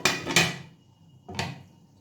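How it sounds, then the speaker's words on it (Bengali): A metal lid set onto a pot of papaya simmering with chana dal: two sharp clattering clanks close by, the second following about a second after the first, each ringing briefly before fading. "আমি আরেকটুকু ঢাকা দিয়ে দিলাম।"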